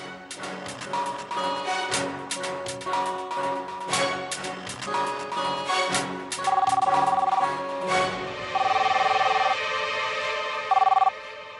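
A telephone rings repeatedly in short bursts over busy background music, the tone growing louder and cleaner in the final few seconds.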